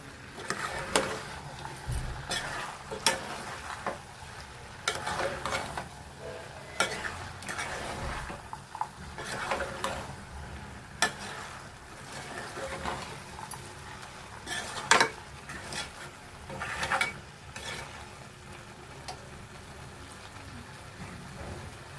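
Boiled potatoes are stir-fried with capsicum, green peas and spices in a pan, with a steady sizzle under repeated scraping and clattering strokes of a spatula that keep up a busy, uneven rhythm close by for the whole stretch, and no talking.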